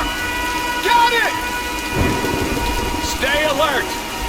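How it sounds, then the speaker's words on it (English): Heavy rain and rumbling thunder in the 2013 Tomb Raider game, a steady loud downpour with low thunder rolls. Short high-pitched squawking calls stand out above the rain at intervals. "Nah, let's wait out the storm."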